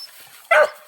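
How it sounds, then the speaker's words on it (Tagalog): A single short dog bark rings out at moderate distance after a near-silent moment. "Ito na pala yung mga aso"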